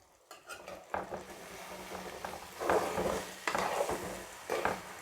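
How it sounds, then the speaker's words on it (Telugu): Potato and onion pieces fry in hot oil, a steady close sizzle with bursts of crackling and occasional scraping stirs of a spatula against the pan. "ఇవి బాగా క్రంచీగా వేగుతాయి."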